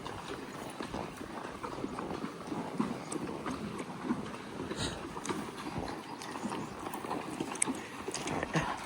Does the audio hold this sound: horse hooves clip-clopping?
yes